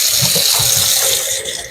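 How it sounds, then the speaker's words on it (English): Hands being rinsed of egg under a running kitchen tap, a loud, close, steady splashing stream that eases slightly toward the end. "I got egg on my fingers. Let me rinse my fingers off."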